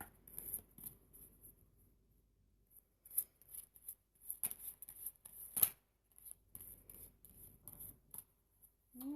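Tarot cards are shuffled in soft, irregular bursts of rustling and flicking, close and quiet, with brief pauses between.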